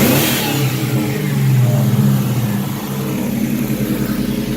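An old Ford Mustang fires up on a new racing fuel pump after years unused, its engine catching and revving loudly up close before settling into a rough, steady run.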